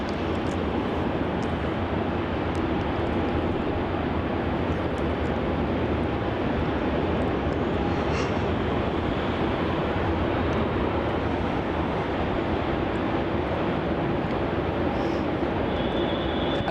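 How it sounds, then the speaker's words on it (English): An Air New Zealand Airbus A320neo departing Melbourne Airport for Queenstown, a loud, broad, steady jet roar holding constant throughout with no talk over it. "A super rare NZ264 departure off to Queenstown"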